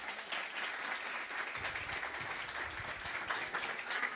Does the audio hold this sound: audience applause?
yes